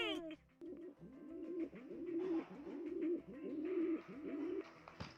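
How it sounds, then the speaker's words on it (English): A pigeon coos close by in a repeated series of soft, throaty, rolling calls with a steady rhythm, running almost continuously for several seconds. "that is a pigeon"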